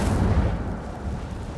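Incendio fire spell cast in Hogwarts Legacy, a video game: a loud, low whooshing burst of flame that swells at once and then settles into a steady roar, alone for under two seconds.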